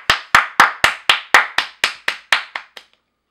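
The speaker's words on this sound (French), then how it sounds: "On peut applaudir David Lynch." A round of about a dozen sharp, evenly spaced claps, fairly close and loud, slowing slightly and fading at the end.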